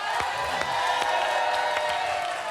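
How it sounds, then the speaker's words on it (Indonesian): A studio audience at a televised music quiz show claps and cheers, with a busy, sustained crowd roar, scattered whoops and sharp claps throughout at moderate loudness. "tepuk tangannya semangat yuk"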